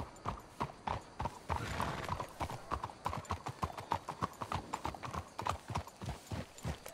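Horse hooves clip-clop in a steady, fairly loud rhythm in Red Dead Redemption 2 gameplay in Saint Denis, several horses walking close by with a brief whinny-like tone.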